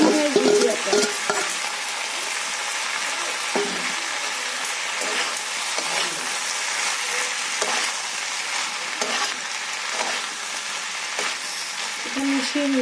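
Egg bhujia frying in a pan, a loud continuous sizzle throughout with repeated stirring scrapes of a spatula, close up and without talk.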